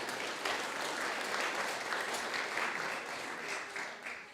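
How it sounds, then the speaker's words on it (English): Steady applause from a church congregation fills a Sunday worship service at Holy Trinity Boston, dense and sustained with no talk over it, tapering slightly at the end. "who I think deserves a round of applause"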